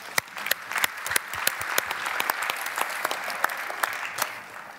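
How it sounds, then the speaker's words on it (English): Applause from the audience at a conference keynote session, moderate and fairly sparse, with distinct individual claps popping out over a softer bed of clapping. "Applause, applause."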